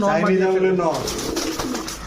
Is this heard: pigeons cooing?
yes